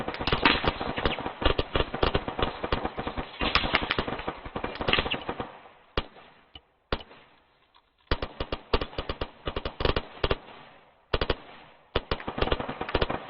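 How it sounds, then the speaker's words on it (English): Bursts of rifle and machine-gun fire during a military infantry training exercise, loud and close, with rapid overlapping volleys, a brief lull, then more sustained shooting. "Just put down general area fire."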